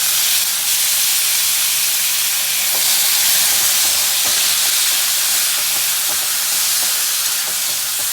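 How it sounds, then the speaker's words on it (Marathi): Cumin, onion, curry leaves and tomato sautéing in hot oil for a dry potato bhaji, a continuous loud sizzle and hiss with faint scraping of a spoon, no voices. "आता जिरं घातलं कांदा कढीपत्ता टमॅटो हे सगळं छान असं परतून घेऊ आपण"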